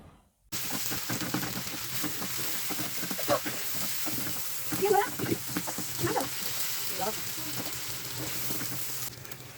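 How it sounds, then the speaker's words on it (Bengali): Minced chicken sizzling and frying with lightly browned onions in a pan, a steady crackling hiss with occasional scraping stirs and louder spatters. "পেঁয়াজটা হালকা ভাজার পর আমি ঝুরা করা মাংসটা দিয়ে দিলাম। এটাকে ভাজা ভাজা করে নিব।"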